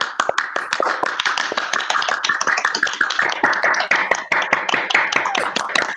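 Graduation-class video call participants unmute and clap together, a dense, uneven patter of many hands at close range, continuing steadily throughout without speech.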